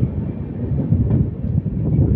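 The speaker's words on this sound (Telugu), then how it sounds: "పెడన రైల్వే స్టేషన్ నుండి అయితే మన ట్రైన్ అయితే బయలుదేరిపోయింది" The Dharmavaram Express runs on after leaving Pedana station, a steady low rumble of the moving carriages heard from inside, with faint rhythmic rattling and no talk.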